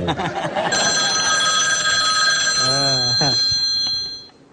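A new smartphone rings with a bright, steady electronic ringtone that sustains for several seconds, while people talk loudly over it throughout.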